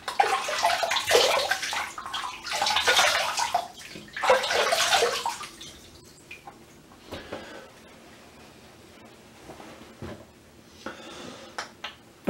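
Water splashing as a man wets his face before shaving with a GEM Featherweight razor: three loud bursts of splashing near the start, then quieter drips and small sloshes with occasional taps.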